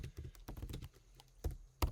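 Quick clicks of a computer keyboard, irregular bursts of close key taps with short pauses and a couple of heavier strokes near the end.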